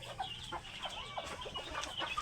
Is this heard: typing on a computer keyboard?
no